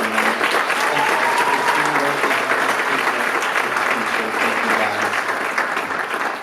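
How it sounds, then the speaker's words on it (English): Audience applause at a film premiere: sustained, dense clapping from a crowd filling the room, loud and even throughout, with faint voices mixed in. "If we could give a round of applause for Production 27, everyone."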